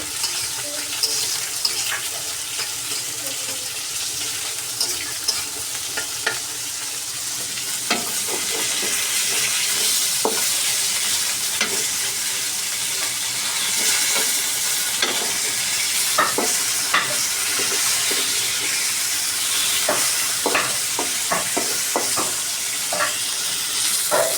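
Cumin seeds, bay leaf and onion frying together in a pan, a continuous close sizzle with scraping stirs and clinks of the spatula, growing busier partway through.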